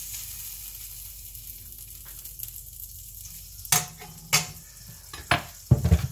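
Margarine sizzles and crackles in a frying pan as a cheese omelette is cooked, a soft steady fizz broken by a few sharp clatters and stirring knocks toward the end.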